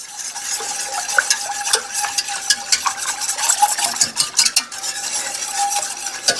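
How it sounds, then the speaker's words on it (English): A whisk beats sugar, oil and milk together in a bowl, giving a steady, fast run of close scraping and clinking strokes that continues without pause and with no talking. "I'm going to get my whisk and whisk this up"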